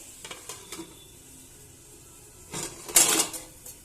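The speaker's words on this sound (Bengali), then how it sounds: "এবার আমি ভালোভাবে নাড়বো" Chopped pumpkin and vegetables stirred in a frying pan, a few soft scrapes early on and then a louder burst of scraping and sizzle toward the end, close by with no voices.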